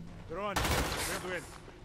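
A burst of gunfire in the Gears of War strategy game Gears Tactics sounds loudly for about a second, with a faint voice audible before and after it.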